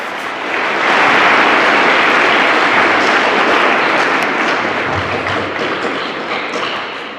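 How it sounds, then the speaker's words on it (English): School learners clap their hands together at a combined school career expo, a loud, dense crowd of clapping that swells in and holds steady before tapering slightly. "Clap your hands for yourselves."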